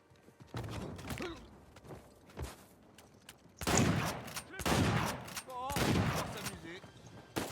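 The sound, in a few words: gunfire in the video game Uncharted 4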